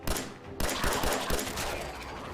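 Rapid gunfire from the video game Fallout 4 on PS5, a burst of close, loud shots in quick irregular succession with no talking.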